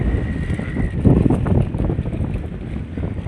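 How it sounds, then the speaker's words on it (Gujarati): Strong, roaring wind at sea buffets the microphone in a continuous gusty rumble, with the faint wash of water and a fishing boat underneath; no voices. "પવન બહુ જ થઈ ગયો છે. પવનનો અવાજ તમને આવતો હોય છે."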